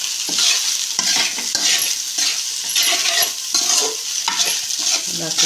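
Spicy egg rice is stirred in a hot pan, a spoon scraping and clinking rhythmically against the metal over a steady sizzle, loud and close.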